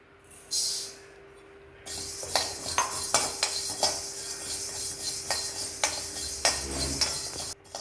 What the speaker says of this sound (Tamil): நம்ம மிளகு எடுத்ததை விட மல்லி கொஞ்சம் கம்மியாக எடுத்து அதே மாதிரி வறுத்துக்கணும்